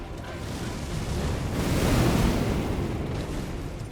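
A waterfall in the video game Elden Ring: Shadow of the Erdtree, a steady, loud broadband rush of falling water that swells slightly in the middle, with no speech.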